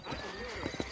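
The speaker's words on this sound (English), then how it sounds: "You ain't gonna find sturdier horses than these in all of New Austin." Horses in the Western video game Red Dead Redemption, set in New Austin: a short burst of hoof clip-clops with a whinny, heard under a voice.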